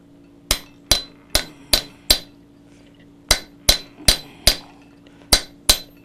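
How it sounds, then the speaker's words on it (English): Blacksmith hammer blows strike a walking chisel to put veins into a hot iron leaf: two runs of sharp ringing metallic strikes, five and then seven, evenly paced about once every half second with a brief pause between. "I can use a chisel to put the veins in the leaf"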